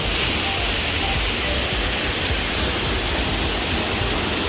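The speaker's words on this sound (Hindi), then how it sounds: "काफ़ी सुंदर सा वाटरफॉल है," Kumeli waterfall in Surajpur, surrounded by forest, rushes in a steady, loud, unbroken roar of falling water that fills the whole clip with dense broadband noise.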